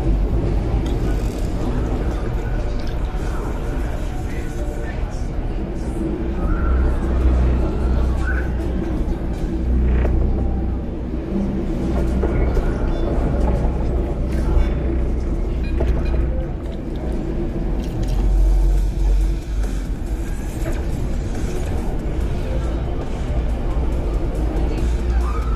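Cyberpunk 2077 Night City Green Line train ride: a steady low rumble and rolling drone fill the carriage, with faint clanks and murmuring background chatter drifting in and out over the continuous mechanical noise.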